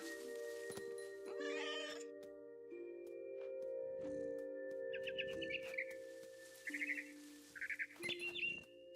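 Birds chirp in short bursts of bright trills over a steady musical drone in the video game What Remains of Edith Finch, the calls quiet and spaced apart.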